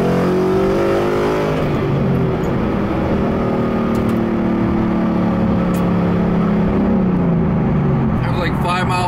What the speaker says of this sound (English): I'm gonna do a couple quick pulls so you can hear how loud it is inside the car.